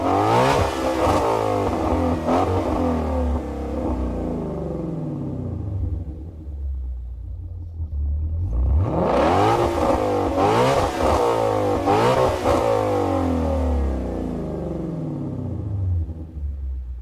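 Ford Maverick in Gran Turismo 7 with its engine revving loudly, rising and falling through several sharp blips, a pause, then another run of revs.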